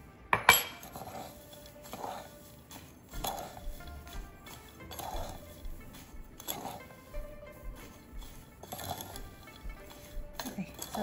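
Roasted sesame seeds stirred with salt in a bowl, rhythmic clinks and scraping of a utensil against the bowl repeating about every second and a half, close and moderately loud.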